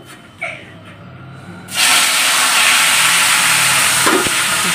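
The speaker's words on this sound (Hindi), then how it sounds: "तड़का लगाती हूँ" Spices hit hot oil for a tadka on a village rooftop cooking fire, bursting into a loud, continuous sizzling hiss that holds steady after a quieter start.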